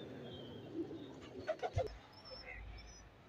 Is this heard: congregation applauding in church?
no